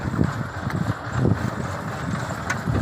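A DTZ mini tractor with a Bomet potato digger attached idles with a low, steady engine rumble nearby and a few faint knocks.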